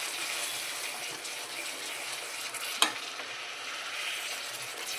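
Onion paste fries in hot oil for a cashew curry, giving a steady, close sizzle throughout with one sharp click of a utensil midway.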